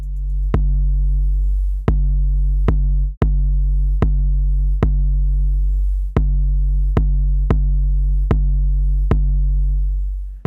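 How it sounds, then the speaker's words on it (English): A gritty 808 bass fills the low end of an EDM track with a deep, sustained tone that is re-struck at a steady pulse roughly every second, loud and upfront with harmonics above it. "I love how the 808 in this case adds a lot of grit and fills up a lot of the low end for this section"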